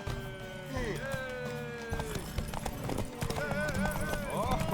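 Hooves of a galloping horse in The Witcher 3 drum in a quick clip-clop beneath prominent voices talking over them, with game music tones lingering in the background.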